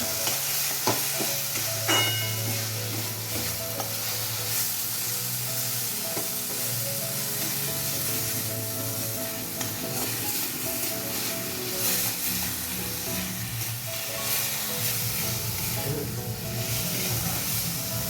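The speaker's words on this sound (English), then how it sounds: "Stir, stir, stir, stir and stir yet again till tiny biceps and triceps come out" Grated carrot mixture for gajar ka halwa being stirred in a pan, giving a steady, close sizzle with soft scraping and shuffling strokes throughout, no voices.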